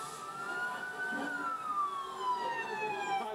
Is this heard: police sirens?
yes